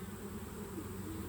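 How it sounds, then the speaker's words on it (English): Honey bees at an apiary give a faint, steady buzzing drone, a continuous hum with no breaks and no voices. "I figured you guys would like to see the bees for a minute."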